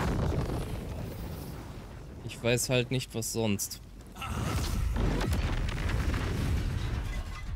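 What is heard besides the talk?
fireball spell explosion in video game Baldur's Gate 3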